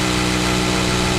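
Engine of a car with off-road tyres in a rally video game, a loud steady hum with a constant drone and no talking.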